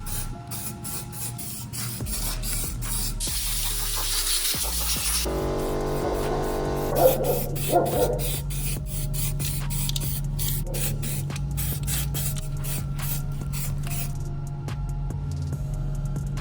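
Spray gun hissing steadily while laying a light second coat of paint on the sill of a Zhiguli car, a continuous close airy spray with shifting tone, running throughout.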